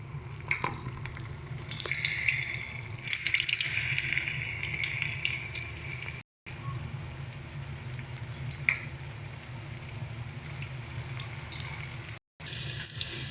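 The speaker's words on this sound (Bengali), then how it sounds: "দুটো পিঠি উল্টে পাল্টে লাল লাল করে ভেজে নিয়েছি" Fenugreek-leaf and cabbage fritters frying in hot oil, a dense steady crackling sizzle held close and fairly quiet, with a few faint clinks and two abrupt brief dropouts.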